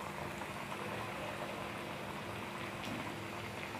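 Alu vadi pieces frying in very hot oil in a kadhai on a gas flame produce a steady, even sizzle and bubbling hiss with no pauses throughout.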